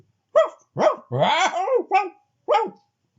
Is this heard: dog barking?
yes